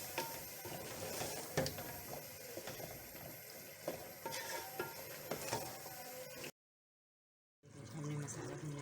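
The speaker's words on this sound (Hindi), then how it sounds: "मसाला भूनने रखते हैं।" Masala frying in a pan with a little water added, for a minced-meat, fenugreek and potato dish: a quiet, steady sizzle with light stirring scrapes, cut by a brief total silence near the end.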